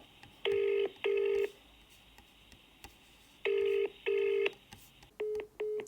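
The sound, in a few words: VoIP phone dialing and ringing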